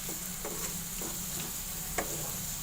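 Onions fry toward golden brown for matar pulao in a steady, hissing sizzle, with a ladle scraping the pan at regular intervals, close and moderately quiet, with no talking.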